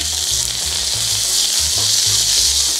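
Lobster and other seafood fry in hot oil in a paella pan, giving a loud, steady, close sizzle with faint low stirring thumps underneath.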